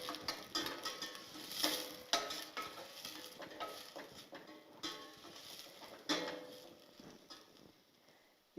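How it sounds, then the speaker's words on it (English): Stirring a little cooking oil in a pan in a home kitchen, a soft patter of utensil scrapes and light taps with a faint sizzle, steady and close. "Let me now add the cooking oil. A bit, not a lot. Then we stir."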